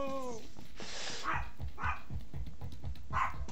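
A dog barks three or four times at a distance, sharp separate barks spaced about a second apart under a constant background hum, following a loud family argument.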